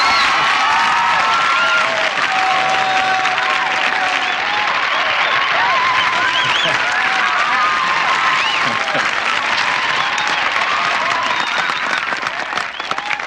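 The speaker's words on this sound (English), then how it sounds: "I get a huge round of applause." A huge round of applause and cheering from high school students fills a packed hall, loud, dense clapping with whoops and shouts sustained for over ten seconds without a break.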